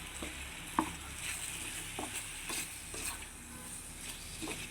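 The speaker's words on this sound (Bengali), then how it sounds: "আবার কিছুক্ষণ নাড়াচাড়া করবো অল্প আছে রান্না করতেছি" Chalta (elephant apple) pickle stirred and cooking in a pan, a soft continuous sizzle with scattered scraping taps of the spoon against the pan, close and fairly quiet.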